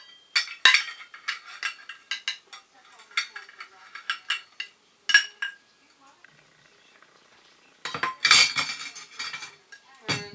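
Metal measuring cups and utensils clinking and scraping against a bowl while almond flour is scooped for keto bread, in a run of sharp taps followed by a short quiet stretch and a final busy clatter.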